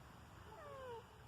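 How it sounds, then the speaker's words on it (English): A cat gives a single short, faint meow outdoors, a brief rising-and-falling cry against quiet background noise with no talking. "Oh, he was just meowing."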